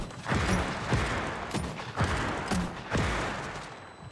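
Blunderbuss mortar shots in the video game New World fire as a series of booming blasts about half a second to a second apart, loud and close with a dense rumble between them.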